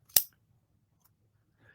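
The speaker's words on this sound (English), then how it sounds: "if you just take your scissors" One sharp snip of scissors near the start, then quiet, with a faint rustle at the end.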